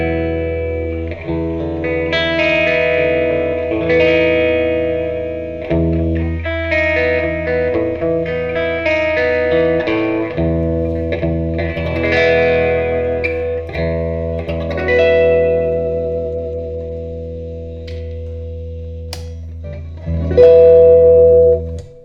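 A Squier Classic Vibe 60s Jazzmaster electric guitar played through a warm, slightly gritty tweed-style amp tone, ringing chords and single-note lines with sustained, reverberant decay, loud and close with no voices.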